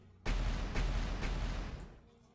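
Explosions in the video game PlanetSmith go off in three quick booming bursts, loud and full, fading into a rumbling tail.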